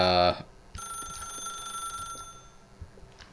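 A telephone in The Stanley Parable rings with a bright, sustained electronic trill that follows a short tonal burst and cuts off near the end, with faint background sounds underneath.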